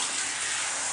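Shower water runs over a computer keyboard, a dense, steady hiss of spray with no voices, held unbroken for about a second.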